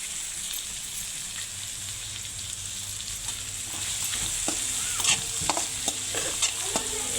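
A spice mix with curry leaves and coriander sizzles in a hot pan while being stirred, a continuous close frying hiss with scraping and clinks that grow busier toward the end.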